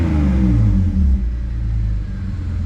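A BMW E46 325xi with a freshly welded custom exhaust revs up toward about 4,000 rpm, a loud, close, deep droning roar that rises and then holds steady.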